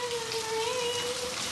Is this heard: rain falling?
yes